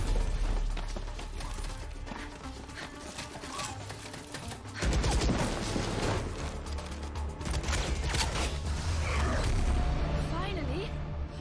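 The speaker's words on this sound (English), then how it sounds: "We're picking up gunfire." Bursts of rapid gunfire and mechanical clatter from the video game Valorant crackle through a busy, dense mix, growing louder and more intense midway through.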